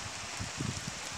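Heavy rain downpour over a garden plot: a dense, steady hiss of falling rain with a few louder patters of drops close by, heard alone.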